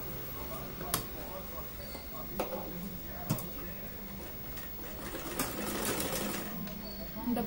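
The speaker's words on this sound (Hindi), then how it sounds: "डबल सिलाई लगा के जोड़ेंगे हम इनको।" Sewing machine joining strips of lace with a double line of stitching for a blouse, running as a steady whirring hum with a few sharp clicks, while someone talks over it.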